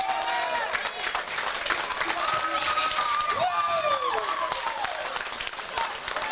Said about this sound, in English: Chappelle bowlers clapping for their opponents.